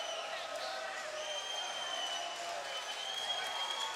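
Arena crowd at a live MMA fight in Pittsburgh roaring and applauding in a steady, dense wash of cheering that holds at an even level throughout, with no clear single voice.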